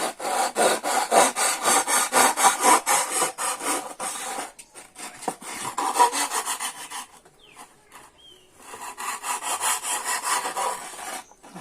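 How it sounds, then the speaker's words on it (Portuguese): Wooden violin parts are sanded with rapid, rhythmic back-and-forth strokes of sandpaper, a loud rasping scrape that pauses briefly in the middle before resuming. "Eu vou encostar aqui e vou lixar"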